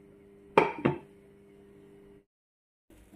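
A lid set onto a cooking pot in a home kitchen, giving two sharp metallic clanks close together and a brief ringing tail, followed by a low steady hum and a moment of silence.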